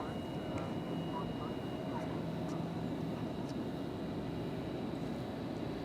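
An airliner at DFW Airport taking off at night for a long trans-Pacific flight, a continuous distant roar of jet engines with a low rumble, under intermittent talk.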